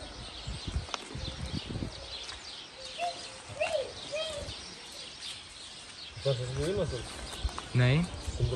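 Birds chirp and twitter outdoors, with a few distinct calls rising over a noisy background while people talk nearby.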